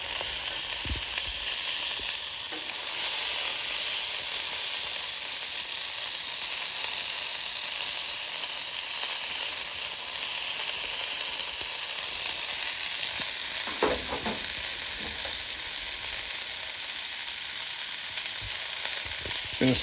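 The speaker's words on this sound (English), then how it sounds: "caramelised onion sausages on now" Caramelised onion sausages sizzle steadily on a Callow 4 burner plancha, a continuous bright frying hiss with a few faint knocks partway through and no talking.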